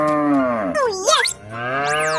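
A cartoonish cow moos in a 3D animal slide video game, one long pitch-bending low then rising moo over two seconds, followed by a short rising sweep effect.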